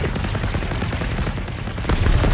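Sustained enemy gunfire in the Generation Zero video game rattles continuously with rapid, dense shots that swell louder near the end.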